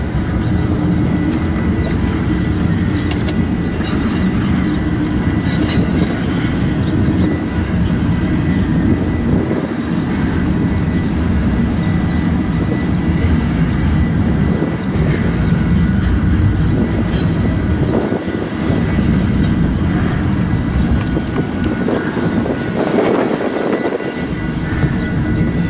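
A double-stack freight train rolls past close by, a loud, continuous rumble and roar with faint clickety-clack of the cars running throughout.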